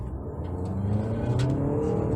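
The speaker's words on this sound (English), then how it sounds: "So driving the Volvo XC60 D4." A Volvo XC60 D4 AWD SUV in eco mode accelerates while driving, a rising engine rumble and whir heard from inside the cabin, steady and fairly loud, with no talking.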